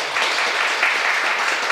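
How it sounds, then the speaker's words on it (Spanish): An audience at an academic history conference panel gives a brief, steady round of applause, dense clapping heard alone with no speech over it. "Le brindamos un fuerte voto de aplauso de despedida."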